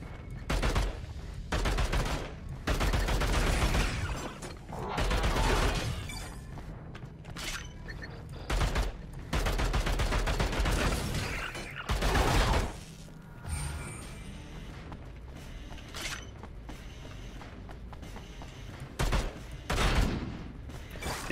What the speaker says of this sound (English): Because you notice that it's firing in little bursts?